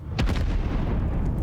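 Flames catch from a candle in Divinity Original Sin 2, a sudden whooshing burst followed by a steady, loud roar of fire that keeps rumbling without pause.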